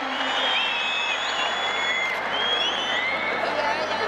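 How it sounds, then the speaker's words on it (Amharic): A stadium crowd applauds warmly at a celebration program at Woldia stadium, producing a broad, steady wash of distant clapping with whistles and voices rising above it. "አጨብጭቡላቸው፣ ሞቅ አድርጋችሁ።"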